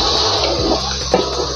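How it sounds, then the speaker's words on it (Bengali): Broth being poured into a pot of beef curry cooked with chui jhal, a steady close rush of pouring liquid that continues throughout with a small splash near the end. "এখন আমি অল্প ঝোল দেব, বেশি না,"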